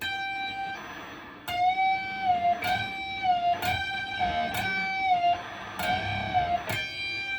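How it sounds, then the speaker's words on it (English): Electric guitar notes plucked in a steady series, each one bent upward so two strings slide into matching pitch, ringing clearly with no voices. "we're going to try to bend this note"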